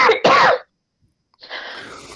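A cough during a live rehearsal of A Christmas Carol: two quick harsh bursts, close and fairly loud, then a pause and a softer breathy rasp trailing off.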